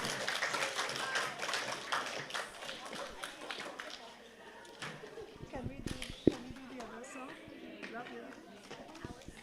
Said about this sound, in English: All right, let's give Year 5 Rouse a round of applause, and all Year 5 students.